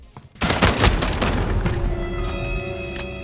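Rapid gunfire from a gun in Modern Warfare bursts in loud and close, a dense chattering stream of shots with heavy low booms that trails into ringing tones.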